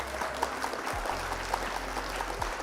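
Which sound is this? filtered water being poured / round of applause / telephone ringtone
round of applause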